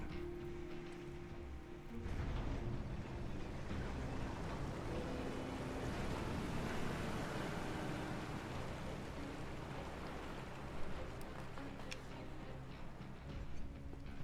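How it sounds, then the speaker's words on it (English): Steady, loud rush of water draining out of a sewer in the Final Fantasy 7 Remake video game, a continuous broadband wash that holds for the whole stretch with a slight swell near the end. "once we hit it, it will completely drain all the water or sewage or whatever you want to call it"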